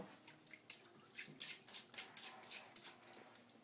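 Water drips and splashes in short irregular bursts while a sharpening stone is rinsed after grinding a groove down its center, faint and close with no talk.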